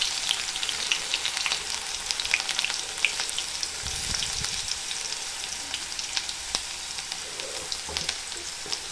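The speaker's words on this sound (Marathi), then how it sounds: "मिरच्या चांगल्या भाजून झालेल्या आहेत मी लसूण घालत आहे" Garlic is added to roasted green chilies frying in a pan, producing a bright, constant crackling sizzle with dense pops throughout and a brief soft stirring thump partway through.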